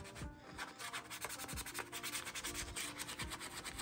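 A helmet is sanded by hand with 220-grit sandpaper to smooth high spots. Steady back-and-forth rubbing strokes sound close and continuous, rasping in a fast, even rhythm.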